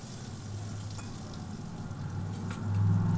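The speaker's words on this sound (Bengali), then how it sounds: "এবার কড়াইতে বসিয়ে কেটে রাখা আলুগুলো ভেজে নেব" Cut potatoes frying in a wok for a spicy pangas fish dish, a continuous close sizzle that swells louder toward the end, with a low hum underneath and no speech.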